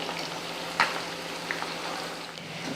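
Chicken pakoda bubbling and sizzling in hot oil, a steady soft crackle with a few sharper pops, alone without voices.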